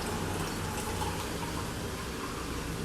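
Blended juice poured from a blender jug into a glass, a steady close liquid gush and splash running continuously without pause.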